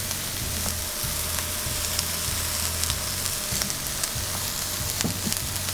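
Mushrooms fry in oil in a pan for a wild mushroom farro risotto, giving a steady close sizzle and crackle with small pops and occasional stirring sounds, and no talking.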